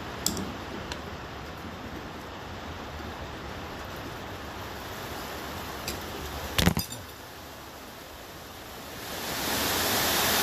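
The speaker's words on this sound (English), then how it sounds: "Now, there's a shower rain for you. Shower hailstones." Shower of rain and hailstones falling steadily outdoors beside a Massey Ferguson 35 tractor being worked on, a continuous broadband hiss with a few sharp clatters near the middle and the downpour swelling louder at the end.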